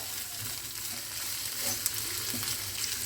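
Chopped vegetables and tomato fry in a pan for a Tibetan veg thukpa, giving a continuous moderate sizzle with soft stirring scrapes and occasional light clinks, no talk.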